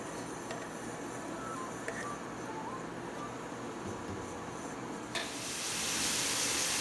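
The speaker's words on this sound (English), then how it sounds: "our onion has been sauteing for about 1 minute or so" Chopped onion sautes in hot oil in a pan for a soup, a steady soft sizzle with occasional stirring scrapes, rising into a brighter, louder hiss near the end.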